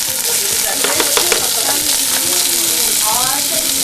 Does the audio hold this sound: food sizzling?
yes